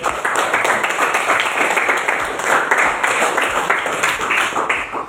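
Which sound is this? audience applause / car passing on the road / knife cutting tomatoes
audience applause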